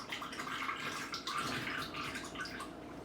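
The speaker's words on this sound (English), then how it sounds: "So I'm just draining out that water, and I'm going to be running cold water now." Tap water runs and drains in a kitchen sink while broccoli is washed, a soft, steady splashing and trickling at close range with no talk.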